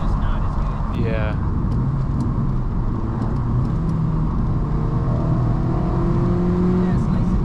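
A 2008 Honda Civic Si with a K20 engine drones from inside the cabin while driving, engine pitch rising and settling under steady road noise, with a voice speaking over it.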